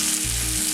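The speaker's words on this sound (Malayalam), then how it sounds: "ഇത് കണക്കെ എല്ലാ പീസസും വറുത്തെടുക്കാം." Pieces of chicken fry in hot oil in a Kerala-style chicken fry, giving a brief, steady sizzle at moderate volume.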